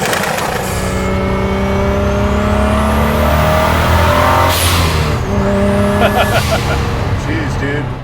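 A custom twin-turbo Ford GT40 restomod with a Ford EcoBoost engine and custom-fabricated MagnaFlow exhaust revs loudly and close, its engine drone rising and falling, with turbo whistles and a sharp hiss partway through.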